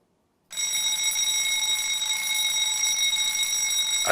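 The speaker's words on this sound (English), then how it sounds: "the fire alarm starts to ring" A fire alarm in a university building starts abruptly after a moment of silence and then rings loud and continuous, with a steady electronic tone and no voices.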